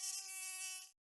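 A mosquito whines close to the ear, a thin high buzz layered with steady tones that holds for under a second and then cuts off abruptly into silence.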